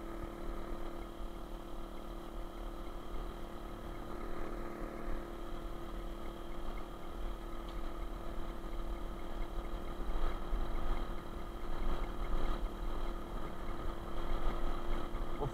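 Small generator running steadily while charging an electric bicycle, a constant low engine hum with a tonal drone, fairly close and unbroken, no talk.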